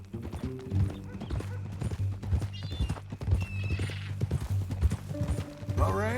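In Red Dead Redemption 2, horse hooves clop in a steady, repeating rhythm at close range alongside a low sustained musical drone, with a horse whinnying briefly partway through.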